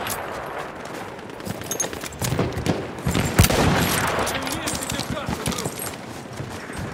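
Machine gun fire in the World War I shooter Battlefield 1 rattles in rapid bursts of sharp shots, growing louder midway and continuing in a dense fusillade, with voices shouting amid the gunfire.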